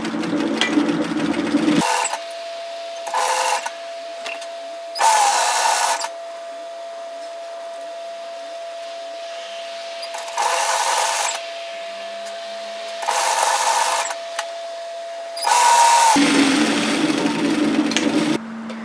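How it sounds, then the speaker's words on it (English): Sewing machine stitches a shacket placket from the neckline down in several separate bursts of steady mechanical whirring, close and loud, with quiet pauses between runs. "So what we're going to do, stitch this from the neckline down 1 centimetre 3/8 of an inch."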